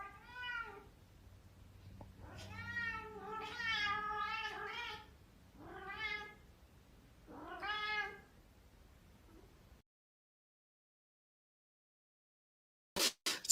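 A cat meows repeatedly, about five drawn-out, whiny calls in close succession, near and clear, then silence followed by a short burst of sound at the end.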